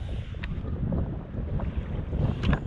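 Wind blows over open sea during a kayak trip around the Sir Joseph Banks Group of Islands, making a steady, low, rumbling buffet against the microphone with faint splashy flickers and no voices.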